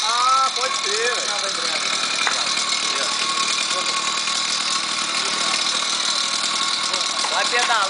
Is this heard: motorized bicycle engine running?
yes